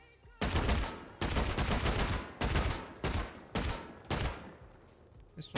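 Rapid AK rifle fire in the survival game Rust comes in several loud, close bursts, each several hundred milliseconds long, separated by short gaps.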